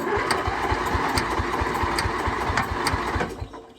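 A small lawnmower engine cranks and chugs in a steady, rapid rhythm, loud and close, before cutting out near the end.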